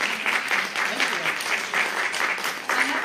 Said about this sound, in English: let's give Jacob a big round of